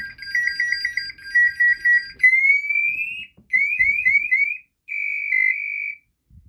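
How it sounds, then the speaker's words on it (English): A firefighter's SCBA PASS alarm chirps in quick pre-alert beeps, then switches to a loud full alarm of rising sweeping tones and sustained shrill bursts, close and alone. "You can hear a pass alarm start to engage, and right about that time, we can hear it go into full alarm."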